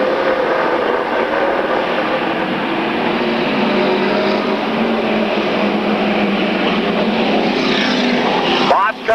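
Race cars roar past on a racetrack in a 1995 race, car number 7, an Oldsmobile, leading the field; a continuous broad engine rumble runs under a commentator's voice, with a brief sharp whoosh at the end.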